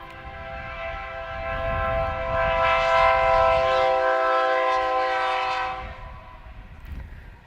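A train passes near a baseball game, its horn sounding in one long sustained blast that swells loud and then fades, with low rumble underneath.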